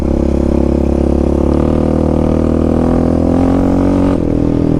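A Yamaha Raptor 700 ATV with a Dasa exhaust pipe and EHS tune rumbles loudly and close, its deep engine note holding steady then shifting in pitch as the throttle changes.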